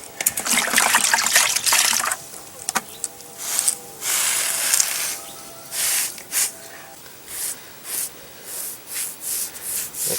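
Wet sponge wiping and rubbing freshly laid caulk along a concrete driveway crack, with water dribbling; repeated rhythmic scrubbing strokes, close and fairly loud, with no talking.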